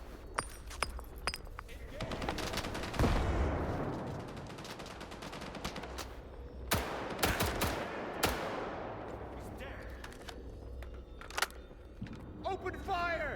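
Gunfire in the video game S.T.A.L.K.E.R. 2 cracks out in sharp, repeated shots and short bursts during a firefight, with someone talking over the shooting.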